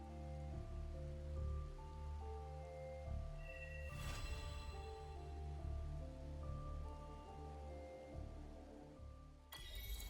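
Steady rain falls across a scene in the Wuthering Waves video game, a soft continuous patter under a sustained musical drone, with a brief brighter hit partway through.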